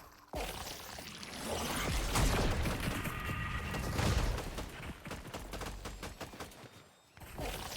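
Sustained gunfire from a streamed video game, a loud dense rattle of shots building and continuing for several seconds before cutting off abruptly near the end.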